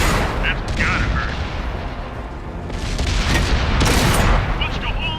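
In the World of Tanks video game, a tank cannon fires and a shell hits, giving dense, loud booms and rumbling impacts over a continuous battle din, with in-game voice callouts mixed in.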